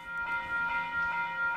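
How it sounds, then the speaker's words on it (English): Passenger train V17 pulling into platform 1 for a Central service, a steady rumbling hum with tonal whine, moderately loud and continuous. "We should have V17 about to pull in the platform number 1 for a central service."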